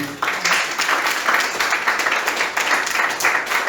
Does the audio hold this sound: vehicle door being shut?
no